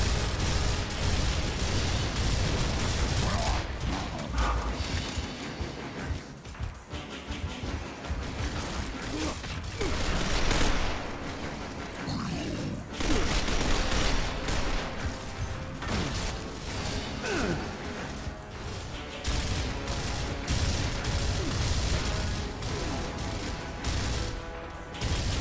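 Rapid, continuous gunfire and mechanical weapon clatter from the Gears of War video game on Insane campaign difficulty, loud and dense throughout with bursts and occasional heavier blasts layered over game effects.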